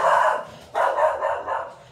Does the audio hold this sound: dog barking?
yes